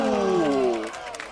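A live esports crowd at a League of Legends match between SK Gaming and Origen lets out a brief burst of cheering and shouting that quickly fades.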